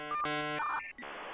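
A dial-up modem connecting in the Jazzpunk video game: loud, close tones shift rapidly and overlap, then give way to a harsh, hissing burst of static, all in about a second with no talking.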